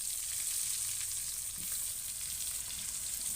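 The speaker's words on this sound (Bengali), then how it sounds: "এবার মাছ ভাজার যে তেলটা বেঁচেছিল সেই তেলে আমি বেগুনগুলো ছেড়ে দিলাম।" Brinjal pieces frying in oil left over from frying fish, a bright, dense and continuous close sizzle with faint low stirring underneath, no voices.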